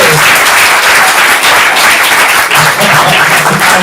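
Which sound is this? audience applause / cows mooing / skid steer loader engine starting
audience applause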